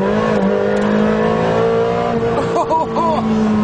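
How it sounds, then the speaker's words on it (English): A high-revving Ferrari 360 Challenge Stradale engine drones steadily and loudly, with brief rising and falling pitch sweeps near the end as the throttle is blipped. "proper race car stuff, and you end up revving it just for fun"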